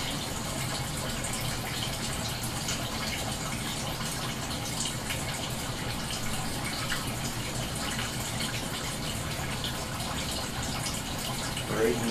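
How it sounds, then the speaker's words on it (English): Water drains from hydroponic ebb-and-flow grow trays filled with expanded clay balls, trickling down through small holes in the bottom as a steady, moderate gurgle and patter that runs throughout. "And now they're draining down through the little holes in the bottom."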